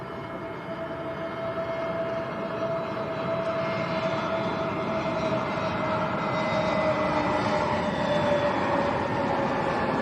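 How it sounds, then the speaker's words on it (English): Cessna Citation 550 jet at Lanzarote Airport, a continuous broadband engine roar with a faint tonal whine, steady and moderately loud across the whole stretch, rising slightly near the end, without any talking. "Let's do a citation. Cessna Citation 550."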